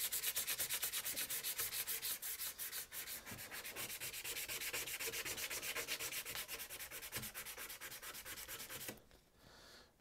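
Sandpaper rubbing over the stamped Vulcan lettering on a hewing axe head during restoration, a steady rapid back-and-forth rasping scrape, close and continuous, that stops abruptly near the end.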